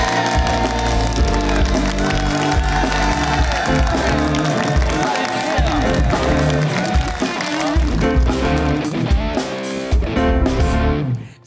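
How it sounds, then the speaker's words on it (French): Studio audience on a French TV show set bursting into loud, sustained applause and cheering for a guest's entrance, with music running beneath the crowd noise throughout. "tonnerre d'applaudissements pour Mr."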